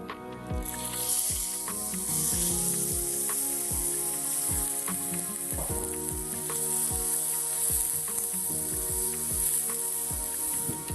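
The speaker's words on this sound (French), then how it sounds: "Donc, nous allons faire suer nos oignons" Onions and minced meat fry in neutral oil for an Algerian dish, a strong continuous sizzle under repeated scraping and clicking stirs that runs steadily throughout.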